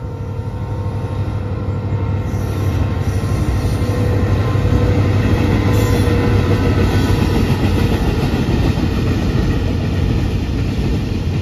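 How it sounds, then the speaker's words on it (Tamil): A train rolling along a railway track near a quarry lake, a loud, continuous rumbling and rattle of wagons that holds steady close by for the whole span, with no talk. "Another train is coming மக்களே."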